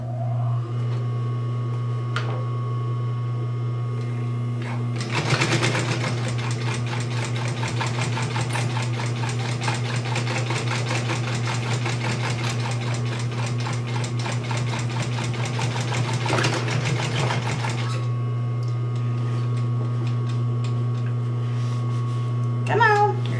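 A sewing machine stitches a seam through layered fabric of a clutch wallet, its rapid mechanical chatter starting abruptly, running steadily for about eleven seconds, then stopping, over a constant low motor hum.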